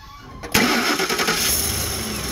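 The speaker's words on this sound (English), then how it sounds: "Go ahead and start up the truck." A truck engine cranks and catches with a sudden loud start, then settles into a steady idle, close by.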